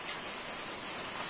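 Steady rain falling during the rainy season, a dense even hiss that holds without a break, fairly faint and heard alone with no voices.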